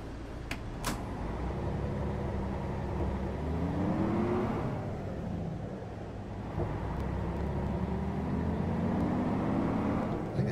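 A Mercedes O407 city bus in OMSI 2 on Szczecin route 59 revs its engine, the drone climbing in pitch, dropping back and climbing again, with a couple of sharp clicks at the start.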